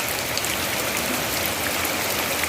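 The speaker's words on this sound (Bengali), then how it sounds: "দেখো বাইরে ঝমঝম করে বৃষ্টি পড়ছে" Heavy rain pours outside a village home, a dense, even roar of drops on surfaces that holds steady and loud throughout, with no voices over it.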